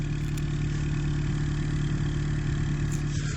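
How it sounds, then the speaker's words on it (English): Inline-4 engine of a 2019 Lexus ES 300h hybrid idling through its exhaust, a steady low rumble held evenly throughout, close and moderately loud with no talk. "let's just listen to this inline 4 exhaust real quick."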